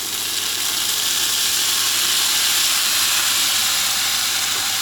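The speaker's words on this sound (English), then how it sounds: "I'm going to add a little bit of soy sauce to this." Soy sauce hitting a hot pan with shiitake mushrooms gives a loud, continuous, bright hissing sizzle that holds steady throughout, close up and alone without talk.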